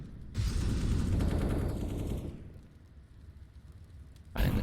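Gunfire in a Counter-Strike match: a loud burst of rapid shots for about two seconds, fading into quieter game noise, then another sharp shot right at the end.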